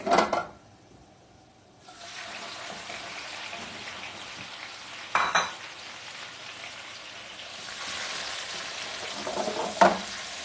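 Garlic frying in a pan gives off a soft, steady sizzle with occasional sharp clinks of a utensil against the pan, heard close and fairly quiet.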